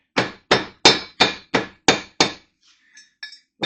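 A plastic hammer taps a Snap-on socket during top-end engine assembly on a KZ400 motorcycle, giving seven even, sharp, close strikes, then a few lighter faint taps.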